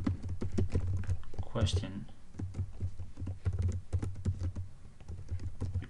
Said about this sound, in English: I'm going to type public function post